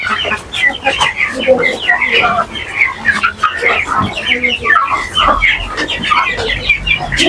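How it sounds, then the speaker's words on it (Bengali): Forty-day-old Tiger breed chicken chicks on a farm in Chittagong, a dense flock peeping and clucking continuously close by, with a person talking over them. "চল্লিশ দিন বয়সী আমার টাইগার মুরগির বাচ্চাগুলো এগুলো"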